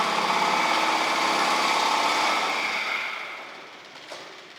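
A John Deere F911 front-mount gas mower with a 60-inch deck and cab runs with a loud, steady engine drone, then winds down and fades over the last couple of seconds.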